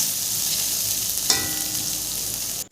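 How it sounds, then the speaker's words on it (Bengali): Eggplant and vegetable stalks fry in hot oil, a steady close sizzle throughout with a brief stirring clatter midway and a sharp knock near the end. "এখন বেগুনগুলো একটু ভেজে বেগুনগুলো যখন হয়ে যাবে তখন একটু ডাটাগুলো একসঙ্গে দিয়ে ভেজে নিচ্ছি"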